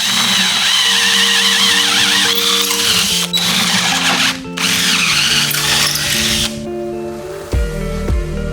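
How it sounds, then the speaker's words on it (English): A power drill whines loudly and steadily up close, with high-pitched shifting tones as it bites into aluminum, briefly stopping and restarting near the end. "So let's drill these out"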